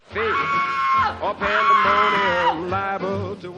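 A girl's horrific scream in a film scene as she discovers a parrot's stripped carcass, long, shrill and close, breaking into a second drawn-out wail with a catch between them.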